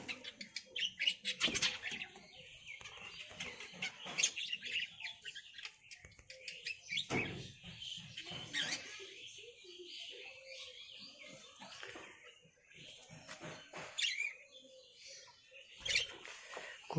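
Budgerigars in a cage chirp and squawk in quick, scattered bursts, faint and close, with short gaps between flurries of calls.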